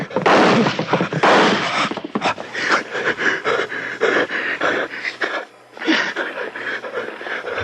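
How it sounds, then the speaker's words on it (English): Gunshots in a 1950s radio suspense drama, a rapid burst of loud close cracks followed by scattered reports, with panting breath and brief voices around them. "I heard the shots."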